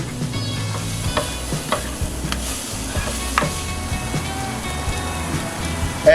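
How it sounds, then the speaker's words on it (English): Andouille sausage and potatoes frying in a pan for a Cajun dish, stirred with sweet and spicy herb seasoning: a loud, continuous sizzle close by, broken by repeated scraping stirs of the spoon, with no talking. "Stir that up."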